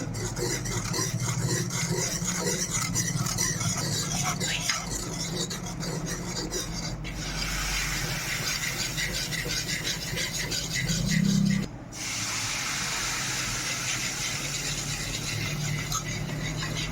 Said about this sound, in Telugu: మాడకుండా కలబెడతానే ఉండాలి